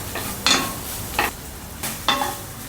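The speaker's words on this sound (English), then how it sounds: "Saute until aromatic." Dry chili and scallion sautéing in hot oil for Mongolian beef, a steady sizzle broken by three distinct scraping stirs of a spatula against the wok, close and without talk.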